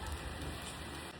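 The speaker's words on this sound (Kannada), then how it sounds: "ಮಳೆ ಬರ್ತಾ ಇದೆ." Rain falls in a soft, even hiss that stays faint and steady through the brief moment, with no other sounds over it.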